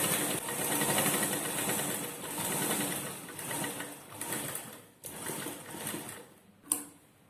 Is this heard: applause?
no